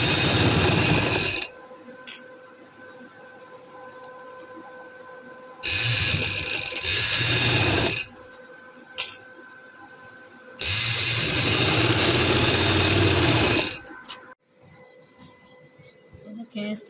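A sewing machine stitches a neck design on a garment in three loud, steady bursts of rapid whirring, separated by quieter gaps with faint handling noise in between.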